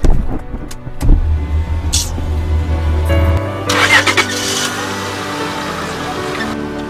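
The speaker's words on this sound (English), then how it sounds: "Driver, please move this car." A car engine starts and the vehicle moves off, a steady low hum building under brief clatter and a rising rev toward the end, fairly close and moderately loud with no talk.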